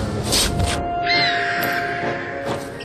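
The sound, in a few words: owl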